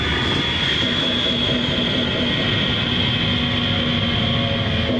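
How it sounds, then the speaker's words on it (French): A hijacked airliner coming in to land, a loud continuous roar of jet engines with a steady high whine, close and unbroken throughout. "les terroristes obligent le pilote à se poser"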